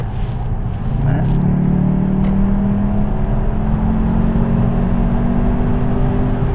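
A 2016 Volkswagen Jetta GLI accelerates from low speed, its engine droning and rising steadily in pitch from inside the cabin, loud and continuous throughout.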